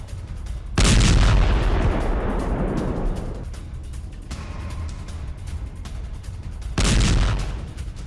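Israeli Merkava battle tank firing in a combat zone, two loud booming cannon shots several seconds apart, each with a long rumbling decay and a faint echo in between.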